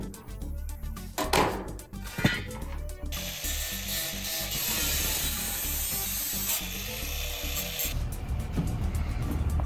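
Roofing material is cut along a roof valley with a continuous, loud rasping cut that holds steady for several seconds after a few sharp knocks and scrapes.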